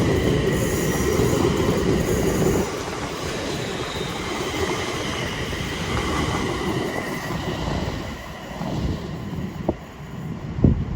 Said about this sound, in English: is a 350, a double 350 going to Birmingham.